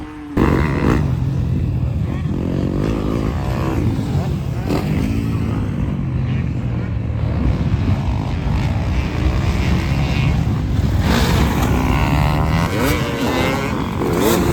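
A 2026 Yamaha YZ250 two-stroke dirt bike being ridden at a motocross track, its engine droning loudly and steadily throughout with revving swells, close to the listener.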